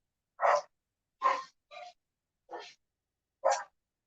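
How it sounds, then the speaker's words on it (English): An indoor dog gives five short, separate barks and huffs, spaced about a second apart, fairly quiet and with no talking over them. "I don't know what she thinks she's barking at"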